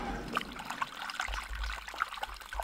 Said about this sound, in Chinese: 剁成块以后再倒水洗